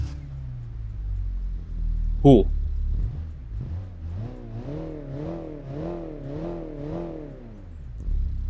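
A 1992 car in the BeamNG driving game cranks and starts, then revs up and down in a rhythmic series of rising engine notes, with a brief spoken comment near the start.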